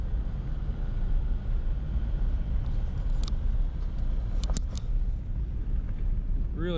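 A Land Rover LR3 on all-terrain tires drives slowly along a forest trail through the trees, giving a steady low rumble of engine and road noise throughout, with a few brief creaks and knocks.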